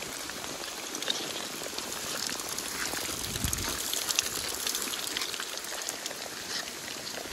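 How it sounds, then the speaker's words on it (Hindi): Steady rain falls on a trail at Ranthambore Fort, a dense, even hiss of drops close around the listener for the whole stretch with no speech. "बारिश हो रखी है, बार बार कैमरे पर लगकर ब्लर हो जाता है कैमरा"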